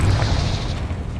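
A Confringo blasting curse explodes in the Hogwarts Legacy video game during a spider den fight, a single deep booming burst with a heavy low rumble that holds steady across the moment.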